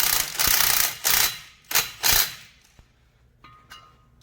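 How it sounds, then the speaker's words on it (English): Bolts on the front wheel rim of a Massey tractor are loosened with a tool, giving loud bursts of ratcheting mechanical whirring, three or four close-up runs that taper off into faint clicks and metal clinks. "So right now, I'm removing the bolt so far."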